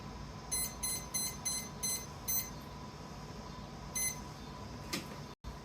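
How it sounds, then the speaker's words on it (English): Kitchen oven timer beeping while a lemon tart bakes: a rapid series of short, bright electronic beeps in groups, quiet and close, pausing and then returning for one more burst. "my timer just went off again"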